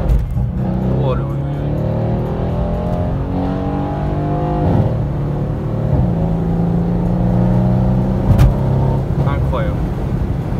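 A Mercedes C63 S AMG tuned to 650 hp accelerates hard in Sport Plus mode, its loud engine note rising steadily through several gear changes while someone talks over it.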